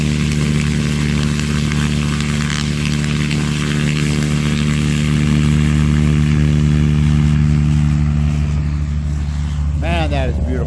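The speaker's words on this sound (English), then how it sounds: "Throttle into it, hold the brakes." A STOL (short take-off and landing) propeller aircraft engine roars loudly and steadily on a lawn, its droning tone holding strong as the throttle is pushed up with the brakes held.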